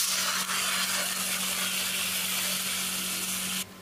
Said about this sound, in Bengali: এবারে দিয়ে দেবো 3-4টে কাঁচা লঙ্কা ছেঁড়া, এবারে তাকে কষিয়ে নেবো।